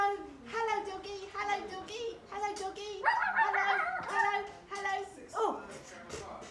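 A voice imitates a dog in a puppet show, giving several short yips and barks amid lively speech, with one louder bark-like burst partway through.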